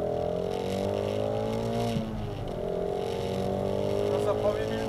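A Shelby GT350 runs on a race track, its engine note holding a steady drone with a brief dip as it lifts off and back on, while people talk nearby.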